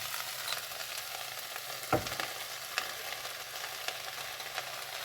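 Onions frying in a pan with a soft, even sizzle that runs throughout, quiet and close, with one dull knock and a couple of faint clicks, and no voices.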